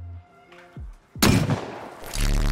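A single loud, sharp gunshot cracks out in a shooter video game, waterpipe and slug weapons in play, ringing on with a short tail after quieter tones.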